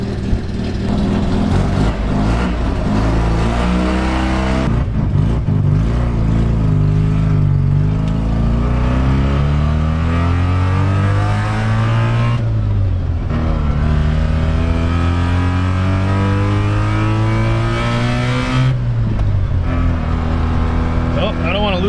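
An old Mazda rotary pickup engine idles and revs steadily close by, its pitch rising and falling in long sweeps with brief dips, carried through the whole stretch without pauses.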